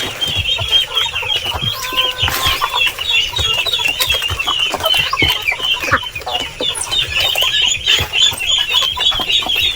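Heritage and native chickens cluck busily at feeding time on a small farm, pecking at organic greens such as cassava, papaya and banana leaves; a dense, close, continuous chorus of clucks with occasional wing flaps.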